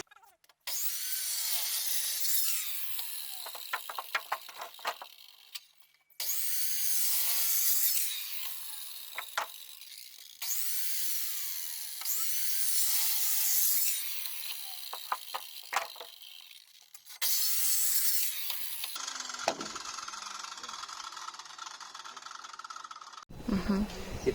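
A circular saw with a fairly small blade cuts through a wooden beam for a frame shed's foundation sill, in several loud bursts of whining, rasping cutting separated by short pauses, with a final harsher burst at the end.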